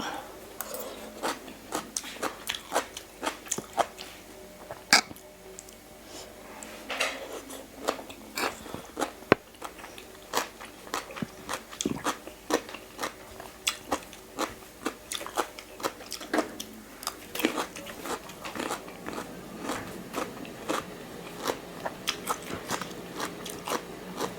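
Crisp, crunchy biting and chewing of a pounded Thai salad of sweet turnip with jumping shrimp, used in place of papaya: repeated close crunches and crackles in an irregular rhythm, with speech around them.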